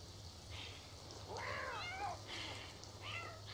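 Several cat meows in The Sims 4 video game, quiet and slightly distant, spaced through the clip over a low steady hum.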